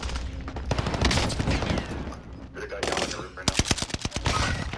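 Rapid automatic gunfire from Warzone gameplay crackles in dense bursts, loud and close, with brief pauses between volleys and faint voices under the shooting.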